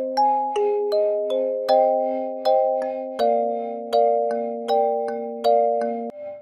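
Dry kalimba with a Gong Amp-processed copy blended underneath, plucking a steady melodic line of clear chiming notes, each struck about every half second and ringing out with a gong-like shimmer.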